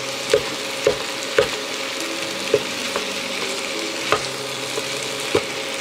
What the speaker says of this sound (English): break up the sausage into little, you know, pieces. And let it all cook and brown